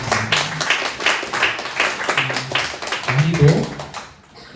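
A high school church congregation at a Sunday worship service claps for a student, a burst of applause mixed with voices and murmuring, rising and falling before fading out.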